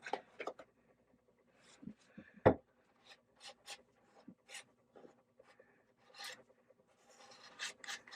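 A tool rubs and scrapes green water-based grain filler across sapele wood in short, quiet, irregular strokes with pauses between them, close and alone.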